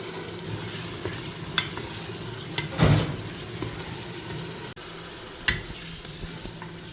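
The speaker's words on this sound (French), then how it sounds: "j'ajoute mes cubes de jarret de bœuf" Beef shank cubes go into a pot with chopped onions and fry with a continuous close sizzle, broken by a loud hissing burst and a few utensil clatters as the mixture is stirred.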